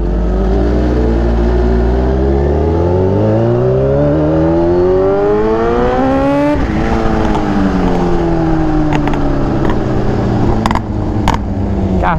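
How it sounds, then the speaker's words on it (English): Lowered Kawasaki Ninja H2 motorcycle engine running steadily at low speed, pitch rising gradually then dropping sharply and rising again as it shifts, loud and close throughout with no talk. "I have to go slow since the bike is lowered."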